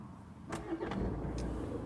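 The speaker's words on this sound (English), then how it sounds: "Engine started." A car engine starts inside the vehicle with a brief starter crank, then catches into a low, steady idle rumble heard from the cabin.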